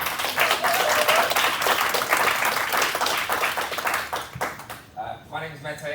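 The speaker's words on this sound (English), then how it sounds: "let's give a whole round of applause to everyone who's been involved in putting air quality events this week" Audience applause at a public health panel on super pollutants and air quality, a dense sustained round of clapping that tapers off near the end as a voice begins speaking.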